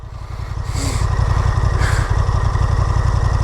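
Stock exhaust of a 2023 Honda Hornet motorcycle, heard close up with a steady idle throb that swells into two quick revs, each rising and falling back, with no talk over it.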